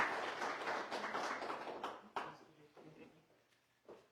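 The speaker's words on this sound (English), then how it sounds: "A round of applause for Lima's Mayor," A crowd applauds Lima's mayor at a ribbon cutting for a crisis center expansion. The full, dense clapping fades away after about two seconds, and then a voice starts speaking over the last scattered claps.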